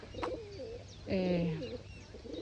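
Pigeons coo in spring, expecting grain, with a soft rolling coo and a few short chirpy calls, close and moderately loud against quiet surroundings.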